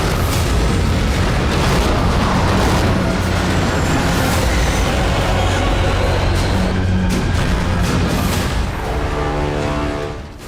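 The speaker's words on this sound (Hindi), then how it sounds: "विध्वंसक प्रहार। एक एक बारूदी वार।" Heavy booms and explosions from a wartime battle scene roll on continuously and loud for the whole stretch, dense and rumbling, fading slightly near the end.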